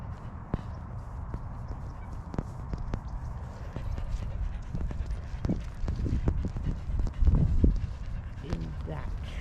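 Horse hooves clip-clop at a walk through a wet underpass tunnel with puddles, the steady clopping close and moderately loud, with a few sharper splashing strikes near the end.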